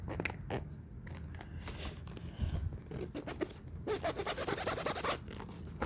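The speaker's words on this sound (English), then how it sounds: "That's a nice zipper sound for James one day." A bag's zipper is opened in rough, irregular ripping and rasping bursts, close and fairly quiet, mixed with light rustling of handled contents.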